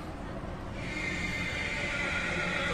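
A horse at a busy Indian horse fair gives a drawn-out whinny over a constant wash of crowd noise and fair bustle.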